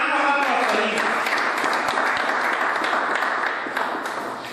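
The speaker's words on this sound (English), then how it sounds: "Please, a round of applause for him" Applause from an audience at a public event, a dense steady wash of clapping that stays loud throughout and fades slightly at the end.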